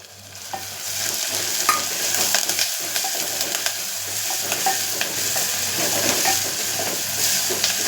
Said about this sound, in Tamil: அந்த வெந்தயமும் அந்த சீரகமும் நல்லா பொரிஞ்சு வர்றது நல்லா மணந்துருக்கு பாருங்கள்